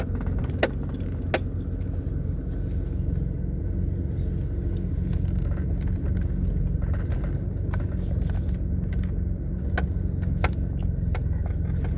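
A 2008 Pontiac G6 rolls slowly over rough, uneven ground, with a steady low rumble from inside the cabin and sharp rattles and jangles of loose keys and trim over the bumps.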